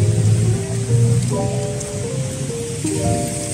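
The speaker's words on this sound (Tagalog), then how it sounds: "Medyo maulan ngayon." Steady rain falls on Session Road in Baguio City, a constant broadband wash with a low rumble throughout, while faint tonal traffic or street sounds drift through the background.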